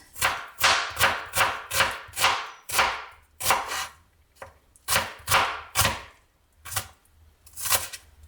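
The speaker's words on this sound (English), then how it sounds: "So you just want to chop this roughly like that." Vegetables chopped roughly on a board for a Sri Lankan green split pea curry, a run of close, sharp knife thuds in quick bursts, then sparser cuts with short pauses between them.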